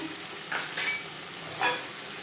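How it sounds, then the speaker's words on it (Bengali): Potatoes stirred with onion and tomato in a frying pan while cooking a mourola fish dish, giving a few brief scraping sizzles over a quiet, steady background hiss. "আলু বেশ ভালো করে মিক্স করে দেবো।"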